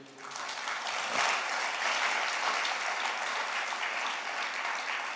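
A congregation at a retreat centre bursts into loud, sustained applause that swells within the first second and holds steady as a dense wash of clapping hands.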